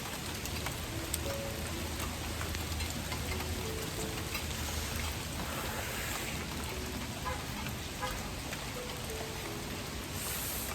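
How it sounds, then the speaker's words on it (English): Steady rain falls in the late afternoon, a soft, even hiss of drops on surfaces that stays constant throughout, fairly quiet and without speech. "it is raining though"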